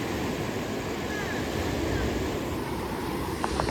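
Sea waves wash onto the beach at Shrivardhan on the Konkan coast, a steady, close broadband roar of surf mixed with wind buffeting the microphone, continuous and fairly loud throughout.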